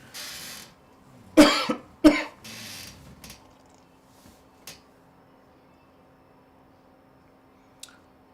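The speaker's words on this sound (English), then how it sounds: "I have to cough, sorry." Two sharp coughs close together, followed by a few faint rustles and clicks in an otherwise quiet room.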